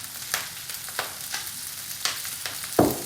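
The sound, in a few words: garlic frying in olive oil in a pan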